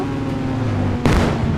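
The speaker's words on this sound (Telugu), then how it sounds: "మనం అయితే ఇప్పుడు ఈ కార్ని పేల్చిపోతున్నాం" A car blows up in the video game GTA: a sudden, loud, booming burst cuts across a steady, droning engine-like background partway through.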